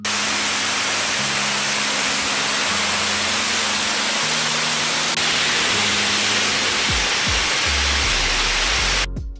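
A steady, loud rush of a waterfall at Tiarei, Tahiti, beside a blowhole, fills the scene, broadband and constant, with a low engine-like hum underneath before it cuts off at the end.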